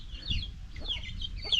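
A mother hen clucks repeatedly in short, close, rhythmic bursts, a brooding hen that has just hatched chicks, with soft rustling between the calls.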